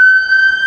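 An emergency vehicle siren on a Manhattan street, a single loud steady tone held briefly and close, with no voices.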